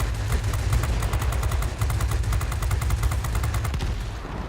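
Anti-air artillery firing in the video game Tanks V Planes, loud rapid bursts of repeated shots in a fast, even rhythm that continue almost without break, heavy and close.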